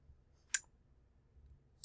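Two faint, isolated mouse clicks in music software, one early and one at the very end, over near silence.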